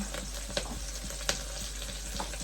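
Tomatoes hiss and sizzle in a hot frying pan, a steady close crackle with a couple of sharp pops and stirring clicks, and no voices.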